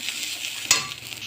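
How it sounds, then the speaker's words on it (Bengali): Spice masala of fried onion, garlic and ginger with chilli and turmeric powder frying in a pan, a steady soft sizzle with one sharp stir or scrape of the spoon midway, close up. "এবার লঙ্কার গুঁড়ো হলুদের গুঁড়ো এর সাথে অ্যাড করে দেবো দিয়ে আবারও কষিয়ে নেব মশলাটা"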